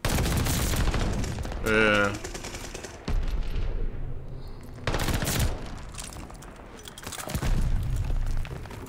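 Bursts of rapid submachine gun fire from a PPSh-41 in Call of Duty Vanguard, loud and close, in several short volleys with explosions and a voice speaking briefly between them.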